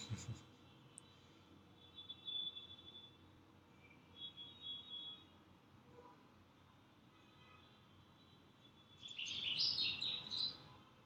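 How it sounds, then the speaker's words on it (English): Birds chirp outdoors in faint, scattered short bursts over a steady low background hum, with a louder, brighter flurry of chirping near the end. "Yes, there are some birds."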